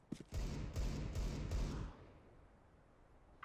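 Counter-Strike: Global Offensive gunfire: a rapid burst of about four loud, evenly spaced shots in quick succession, then a fading tail into quiet game ambience, with a faint click at the very end.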